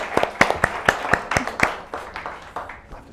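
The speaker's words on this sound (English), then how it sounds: "Applause means the end." A small room audience gives a short burst of applause at the end of a business-of-creativity talk, sharp separate claps that thin out and fade over a few seconds.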